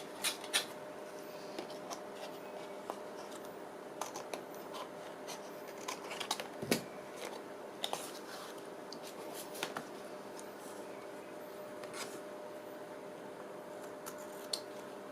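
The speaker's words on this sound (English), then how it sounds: "Let's just trim off this the excess there." Scissors trim excess paper from a pocket journal page, with quiet close snips and paper rustles spread across a soft, steady room background.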